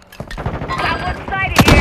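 Loud gunfire in Call of Duty Modern Warfare 2 multiplayer: rapid cracking shots and bursts pile up close together, with a heavier blast near the end and a game voice briefly audible.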